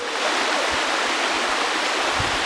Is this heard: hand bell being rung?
no